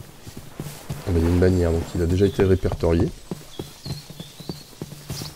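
Horses in enclosures in Minecraft, with hooves tapping in soft irregular steps close by, while someone speaks over them for much of the time.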